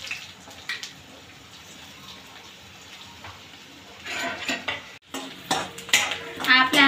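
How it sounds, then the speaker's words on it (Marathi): Onion goes into hot oil with mustard seeds and cumin in a pan, setting off a louder sizzle and utensil clatter after a quieter stretch of light crackling, with a brief break midway. "कांदा टाकून घेऊया"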